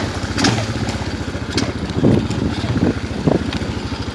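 A Hellcat 125 Grom-clone motorcycle on a muddy ride runs with an uneven, sputtering engine note and intermittent pops, close and steady at moderate loudness.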